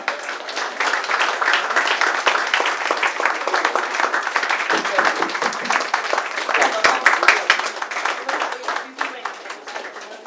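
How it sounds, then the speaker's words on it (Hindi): An audience at a hotel event breaks into sustained applause, a dense crackling wash of many hands clapping that carries on for about ten seconds with voices heard faintly underneath. "ओके, वेरी गुड, जोरदार ताली हो जाए।"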